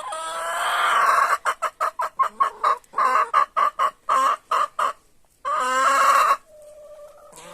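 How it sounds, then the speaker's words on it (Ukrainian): Greece Sandry meat-and-egg cross rooster and hens on a farm cluck in a rapid run of short, loud, close bursts, pausing briefly before a longer squawk, then fading to a soft trailing cluck. "Півник"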